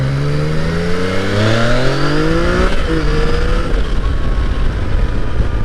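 Yamaha FJ-09 (MT-09 Tracer) motorcycle, a 2015 model, revving and accelerating while riding, with rising and falling engine pitch through several gear changes, loud and close over steady wind rush.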